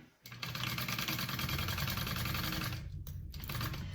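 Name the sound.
sewing machine stitching a bucket bag seam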